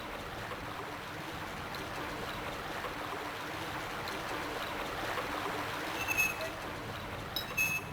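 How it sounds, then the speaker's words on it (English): Steady rush of water pouring from an opened drainage valve in the Silent Hill video game, a continuous broadband flow holding even throughout with a couple of faint higher clicks near the end. "So we're going to open the drainage valve, which is going to tell us that we need to put something in place to stop the water."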